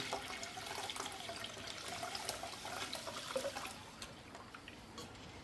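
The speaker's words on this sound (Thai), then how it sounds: "เสร็จนะคะกรองอีกรอบหนึ่งค่ะ" Pandan and young coconut dessert batter strained through a sieve, giving a faint, continuous trickling and pouring of liquid with no talk.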